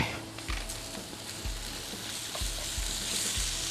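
Pork sizzles in a hot pan with garlic and ginger for Shanghai-style chili noodles: a steady close fry hiss broken by soft rhythmic stirring knocks about once a second, with no talking.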